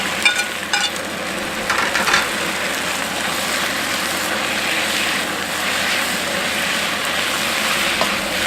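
Rice noodles stir-frying in a hot wok for Hong Kong-style dry-fried beef noodles: a steady, loud broadband sizzle with a few sharp clatters near the start, continuous throughout with no talk.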